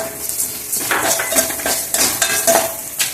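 Coriander seeds, chana dal, fenugreek and dried chillies dry roasting in a hot pan, with steady scraping and rattling as they are stirred, close and moderately loud, with no talk.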